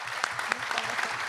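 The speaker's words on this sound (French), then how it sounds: "on peut l'applaudir" An audience applauds at a closing conference, with steady clapping from a moderate crowd kept short and fairly even, faint under the room's ambience.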